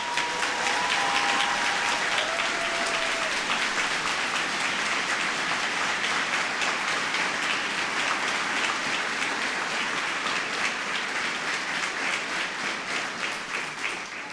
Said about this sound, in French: Et je pense qu'il faut qu'on les applaudisse tous très fort.